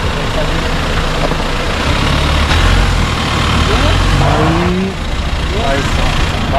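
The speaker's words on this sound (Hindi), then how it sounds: "ऑफ रोडिंग देख रहे हो नैन भाई की।" Off-road vehicle engine revving on a river crossing, a loud steady drone with rising pitch sweeps near the end, heard close over continuous rushing background noise.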